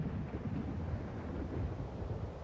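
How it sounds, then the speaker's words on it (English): Heavy thunderstorm in the video game Okami HD: a steady deep rumble of thunder and rain-like noise, loud and continuous, with no voices. "A gigantic thunderstorm is raging through the area."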